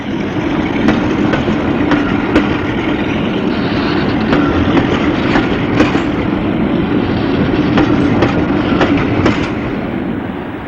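A Peak class diesel locomotive hauls a train across a viaduct after a station stop. It gives a loud, steady rumble with rhythmic clickety-clack wheel beats throughout.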